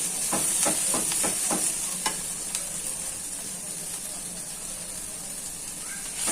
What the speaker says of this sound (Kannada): ಸ್ವಲ್ಪ ಸೊಪ್ಪು ಫ್ರೈ ಆಗಲಿ ಅದು ಈರುಳ್ಳಿ ಜೊತೆ.